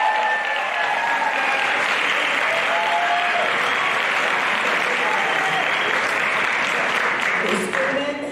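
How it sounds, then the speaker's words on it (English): Sustained applause from a large audience at a high school graduation ceremony, loud and even throughout, with some voices mixed in beneath the clapping. "The students and parents, let's give another round of applause to thank Ms. Garber for her generous support"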